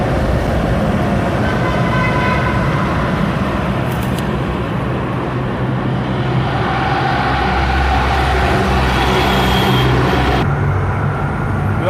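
Loud, continuous rumble of heavy truck traffic echoing inside a tunnel, a deep roar with no gaps.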